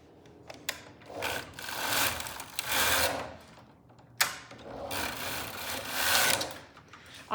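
A Silver Reed knitting machine knitting tubular fabric, the carriage sweeping back and forth in two long rasping, whirring passes with clicks between strokes, close and alone.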